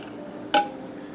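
A ladle dips into a pot of simmering brown stock to skim off the scum, making a single short liquid clink and slosh against a quiet background hiss.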